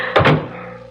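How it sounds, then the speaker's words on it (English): A door is shut as a radio drama sound effect in a CBS Mystery Theater macabre mystery, two quick close wooden thumps in succession, loud and near, followed by a fading room tail. "Close that door up. Shut it."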